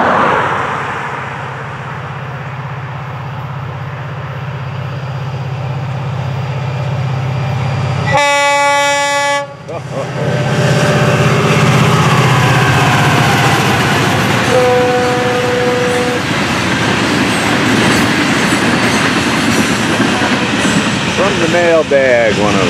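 FEC 920 local freight train at Winter Beach sounds a loud horn blast, then rumbles past close by with a steady, heavy roll of railcars that continues to the end.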